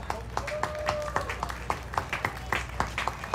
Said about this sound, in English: the chair of that committee, Mr. Mark Kuhn, we want to give him a giant round of applause.